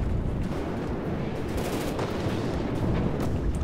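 Missiles slam into a ship in From the Depths, a fast volley of sharp blasts and crackling impacts clustered over a few seconds, loud and close in dense rumbling noise.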